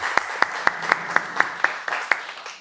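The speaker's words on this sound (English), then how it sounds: "Another round of applause." Audience claps in a slow, evenly spaced series of about ten sharp claps at a design portfolio critique night in Dubai, each crisp and distinct, fading slightly toward the end.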